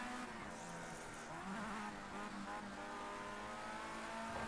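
A Formula Ford race car engine drones steadily from inside the car during a race, a continuous buzzing note that rises slightly in pitch and loudness as the car accelerates.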